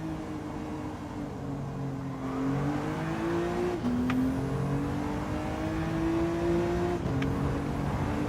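A race car engine in Gran Turismo 7 during online lobby racing revs steadily and loudly, with its pitch climbing and dropping through gear changes. A faint whir sits underneath, and there is no talking.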